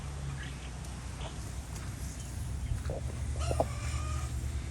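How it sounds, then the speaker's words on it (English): Hens clucking up on the roost in a chicken coop, a few faint, scattered calls over steady background noise, growing slightly busier toward the end. "Hens up on the roost."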